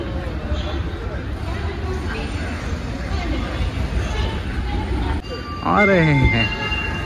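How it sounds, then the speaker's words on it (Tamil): Busy Bengaluru railway station ambience: crowd chatter over a rumbling train, then a sharp metallic squeal of train wheels near the end. "Bengaluru railway station"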